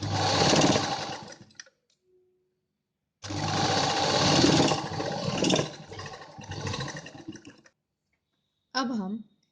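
A domestic sewing machine runs two long bursts of stitching along joined A-line kurta panels, steady whirring near the mic, with a short pause between runs and a brief voice near the end.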